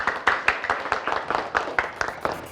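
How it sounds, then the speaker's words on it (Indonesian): Audience clapping at a school yell-yell contest awards ceremony in Palu, a steady rhythmic applause with repeated hand-clap bursts, fairly near and moderately loud, with no voices over it. "Kita kasih tepuk tangan dulu"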